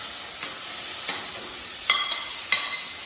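Chopped banana pieces sauté in a pan with a soft, continuous sizzle, punctuated by a few louder scraping stirs near the end.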